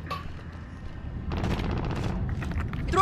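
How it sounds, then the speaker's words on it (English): Rapid bursts of hostile gunfire in a video game firefight, dense crackling shots that swell louder toward the end with no talk over them. "Receiving hostile fire."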